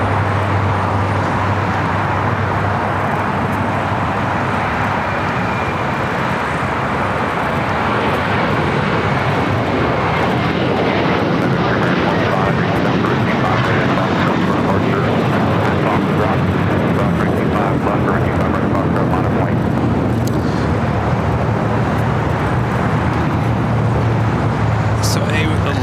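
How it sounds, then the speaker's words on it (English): American Airlines Airbus A321 taking off from LAX, a loud, sustained broadband jet roar that holds steady for the whole stretch, with a low rumble, and a voice talking over it. "Next takeoff is American Airlines Flight 1653 heading to Dallas Fort Worth, Texas."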